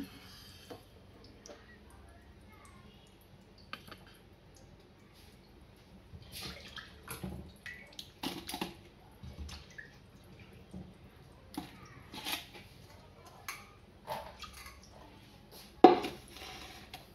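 Food being washed by hand in a pot of water in a home kitchen, with faint splashes, drips and occasional clinks of the pot, quiet and intermittent.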